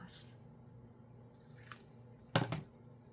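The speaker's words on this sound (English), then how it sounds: "I'm going to have to cut this off." Scissors make a short crisp snip through paper for a journal, with faint rustling and handling beforehand, close and quiet apart from the single sharp cut.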